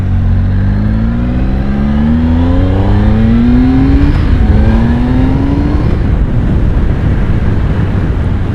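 A 2016 Triumph Speed Triple S motorcycle accelerates hard, its engine note climbing steadily through several rising sweeps under heavy, constant wind roar close to the microphone.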